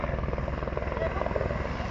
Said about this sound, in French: L'hélicoptère.